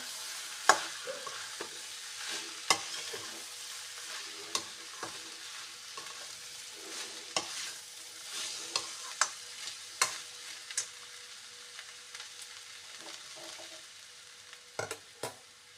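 Quiet, steady frying hiss over a low flame for jackfruit pulao, broken by sharp clicks and taps of a utensil stirring the pan every second or so, with no talking.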